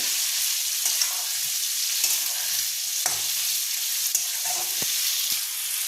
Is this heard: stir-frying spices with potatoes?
yes